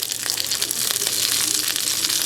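Steady crackling sizzle of chicken and zucchini with sea salt frying in a hot pan, continuous and close, with no talking.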